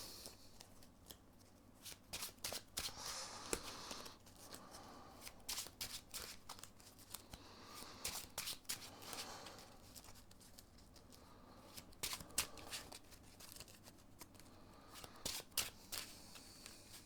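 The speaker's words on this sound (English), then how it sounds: "We shuffle." Marvel Champions cards being shuffled by hand on a tabletop, close and quiet, with repeated riffling bursts and soft card taps over about seventeen seconds.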